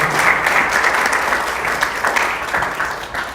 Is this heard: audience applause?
yes